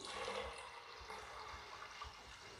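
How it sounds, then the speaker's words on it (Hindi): Water, about a litre from a jug, pours steadily into a pressure cooker holding chana dal for a dhaba-style dal chawal, a continuous close splashing fill with no talking. "यहाँ मैं इसमें 1 लीटर पानी ऐड करूँगी।"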